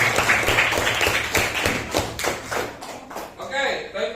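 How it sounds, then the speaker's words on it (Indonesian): Students in an Indonesian classroom clap their hands in a rapid rhythmic burst, loud and close, with voices and chatter underneath before the claps fade out. "Tepuk tangan untuk kalian."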